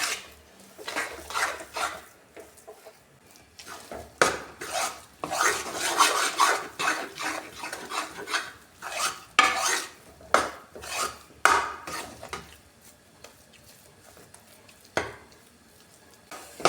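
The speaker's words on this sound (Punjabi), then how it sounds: "ਵੇਸਣ ਸਾਡਾ ਪੁੱਜਣਾ ਸ਼ੁਰੂ ਹੋ ਗਿਆ" Gram flour (besan) roasts in a pan while a spatula stirs it, giving repeated rasping scrapes and metallic knocks in uneven bursts over a soft sizzle, close and fairly loud, without talking.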